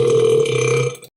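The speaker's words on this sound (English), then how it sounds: "Did you just burp in class?" A single loud, drawn-out burp in a classroom, a deep buzzing belch lasting about a second before cutting off, close and alone.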